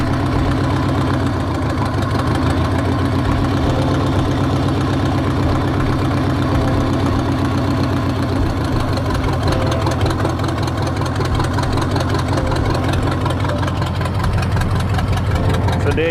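A car engine idles steadily after a build with the alternator running, giving a loud, even rumble with a rhythmic mechanical tick that holds without a break throughout.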